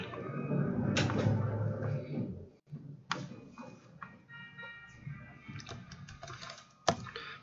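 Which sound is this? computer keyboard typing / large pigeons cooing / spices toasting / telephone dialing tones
computer keyboard typing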